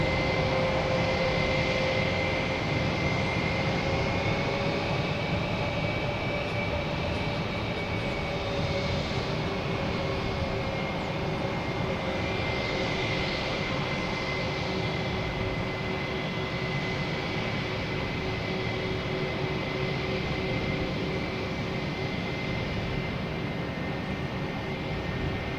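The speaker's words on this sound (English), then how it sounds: "got JetBlue coming in from, this is, the Bruins. Coming in from Louis Armstrong International Airport" A JetBlue jet airliner on approach to land at Boston Logan roars steadily at a distance, its broad engine rumble and a faint whine holding for the full stretch, with no talking.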